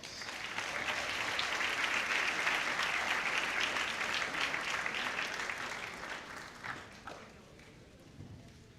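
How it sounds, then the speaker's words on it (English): Guests at a varsity athletic banquet applaud the coaches. The applause builds to a full, sustained round and then thins into scattered claps over the last couple of seconds. "please join me in giving our coaches a round of applause."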